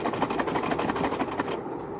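A sewing machine stitches stretchy, rubber-like shirt fabric, its needle pounding in a fast, steady rhythm close up before stopping abruptly near the end.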